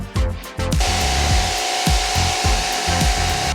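Clay bar rubbed back and forth across the paint of a Chevrolet Corvette during detailing prep, producing a loud, regular series of scrubbing strokes over a steady mechanical hum.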